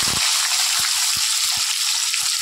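Square-cut onions sizzle loudly in hot oil with whole cumin seeds and two bay leaves, a steady bright frying hiss broken by soft low knocks from stirring.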